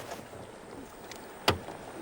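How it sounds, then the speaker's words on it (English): An 80-pound red-tailed catfish lying in a boat pumps air over its gills, giving one short, sharp rasping burst partway through, with a faint outdoor background around it. "Now that this fish is in the boat, it is pumping air, not water, over its gills, creating these strange sounds."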